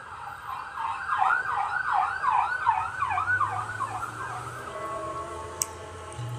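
Emergency vehicle sirens wailing in a rapid rising-and-falling pattern, moderately distant, over low road traffic rumble, fading as they pass.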